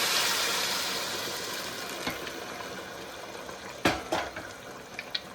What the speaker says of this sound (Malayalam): തിളപ്പിക്കാൻ വച്ചിരുന്നത് തിളച്ചിട്ടുണ്ട് ഒരു ഗ്ലാസ് അരിക്ക് രണ്ട് ഗ്ലാസ് വെള്ളമായിട്ട് വെച്ചിട്ടുണ്ട് അത് ഇതിലേക്ക് ഞാൻ ഒഴിച്ചു കൊടുക്കാണ്